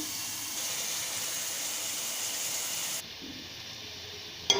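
Onions frying in hot oil with salt in a covered pan give a steady, soft sizzling hiss that runs evenly, then drops quieter near the end, with no talk.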